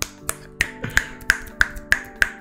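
About seven crisp right-hand finger snaps at a steady, even rhythm, close and distinct, over a faint sustained musical background.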